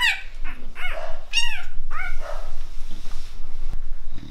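Hungry newborn puppies whimper and squeal in high, wavering cries, several short bursts close by over a soft rustling background.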